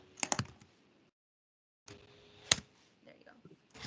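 Someone types on a computer keyboard during an online meeting: quick bursts of close key clicks with a pause of silence in the middle, then a few more taps.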